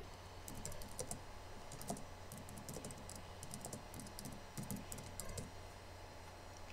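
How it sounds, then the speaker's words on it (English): Random letters are typed on a computer keyboard, with quick irregular clicks of keys in bursts, close by and fairly faint, with no talking. "I'm just going to type random letters"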